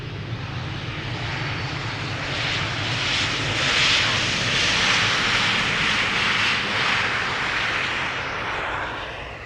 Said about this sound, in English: It's another 737.